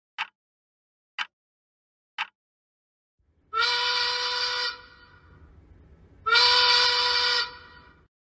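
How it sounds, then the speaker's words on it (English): Three short beeps, then two long, loud, steady horn-like blasts of a town noon whistle with a gap between them, carrying clearly over quiet surroundings. "That is another noon whistle."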